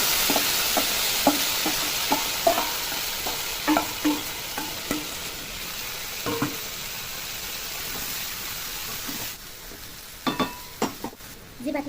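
Marinated vegetables hitting hot mustard oil with black cumin seeds in a pan, giving a continuous sizzle and frying hiss, with repeated stirring scrapes and clatters throughout.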